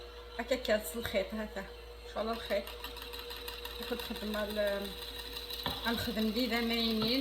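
An electric hand mixer whirs through marble cake batter of creamed sugar and eggs, a steady motor drone with shifting pitch as the beaters move, while a person talks over it throughout.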